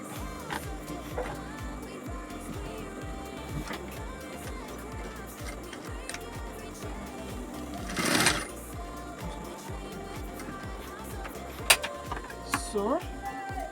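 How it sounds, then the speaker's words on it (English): A sewing machine stitches a turban face cap, running steadily with a quiet, continuous mechanical whirr and rapid needle pulses, with a brief louder burst partway through and a few small clicks near the end. "So you just sew it."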